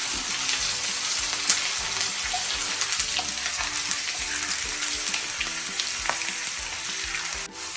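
Fenugreek, garlic and ginger fry in a pan for a salmon head curry, a continuous close sizzle with occasional light stirring scrapes and small pops, no voices.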